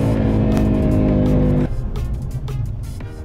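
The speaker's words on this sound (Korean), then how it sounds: "엔진 사운드." An Audi RS3's five-cylinder engine pulls hard through third gear, a loud, steady, gravelly drone heard from inside the cabin, then a gear change drops it into a rougher, fluttering tone.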